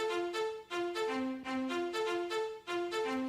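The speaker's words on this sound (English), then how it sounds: "The cello high sounds like this." A resampled high cello plays a rhythmic figure of repeated bowed notes in short phrases, alternating between a couple of pitches with bright harmonics, steady and fairly loud on its own.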